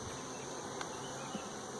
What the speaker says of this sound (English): It looks like there's a lot of nurse bees on these frames.